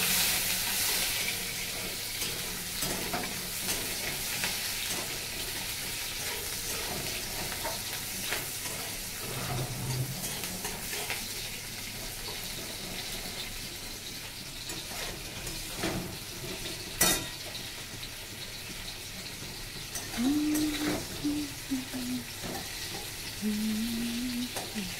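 Onions fry in a pan while being stirred, a soft continuous sizzle with occasional utensil scrapes and clinks against the pan, fairly quiet throughout.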